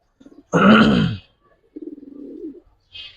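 A close giribaz high-flyer pigeon's deep, throaty coo, followed by a softer rolling burble and a brief faint rustle at the end.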